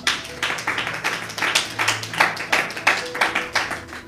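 A church congregation claps in rhythmic, repeated bursts during a French-language sermon, the steady applause filling the room with no speech.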